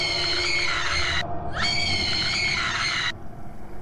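A woman screams in a creepy horror story: two long, shrill, sustained cries split by a brief pause, loud and close over a low rumbling background.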